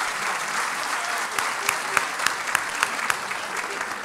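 Moderate applause from a concert audience at a Turkish classical music choir performance, steady clapping with a few sharper claps standing out, heard at some distance in a large room.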